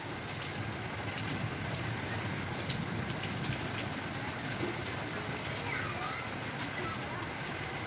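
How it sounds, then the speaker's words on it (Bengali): Steady rain pours down continuously, a dense hiss of drops on surfaces with faint speech and a bird or two in the background. "অনেকক্ষণ ধরে বৃষ্টি পড়ছে, এখন বৃষ্টিটা একটু কমছে"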